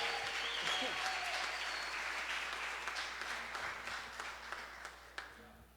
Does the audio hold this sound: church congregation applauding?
yes